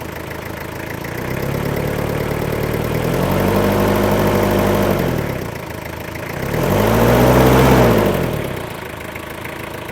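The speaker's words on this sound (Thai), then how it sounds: "เดี๋ยวพามาสตาร์ทฟังเสียงเครื่องยนต์กันนะครับว่าเป็นอย่างไรกันบ้าง" A Toyota Hilux Sport Rider 3.0 4WD pickup with manual gearbox runs close by, its engine idling with a steady low rumble and rising into two smooth revs before settling back to idle.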